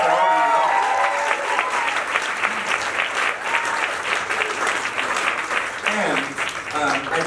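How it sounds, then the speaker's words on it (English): Theatre audience applauding at the final curtain call of Broadway Bounty Hunter, a loud, sustained roar of clapping with voices and cheers mixed in throughout. "So huge round of applause."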